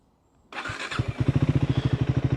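A Triumph Scrambler 400X motorcycle starts: a burst of starter whir catches and settles into a steady, loud, evenly pulsing single-cylinder idle close by.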